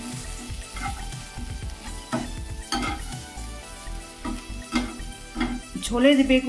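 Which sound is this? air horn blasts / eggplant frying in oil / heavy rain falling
eggplant frying in oil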